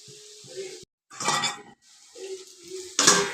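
A metal lid clanks onto a cooking pot of egg and potato curry turned down to low heat, two brief rattling clatters over a soft steady simmering hiss.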